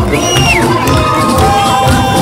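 A loud outdoor crowd cheers and shouts at a Maslenitsa festival in Star City, children's voices rising above steady hubbub, close and continuous.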